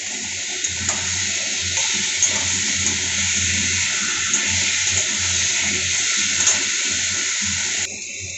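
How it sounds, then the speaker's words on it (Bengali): Water pours in a steady, unbroken stream into a cooking pot of potatoes, papaya and spices for a katla fish curry, a close, even splashing rush that cuts off abruptly just before the end. "জলটা অ্যাড করে দিচ্ছি।"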